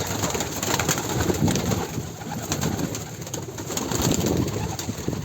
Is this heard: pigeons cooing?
yes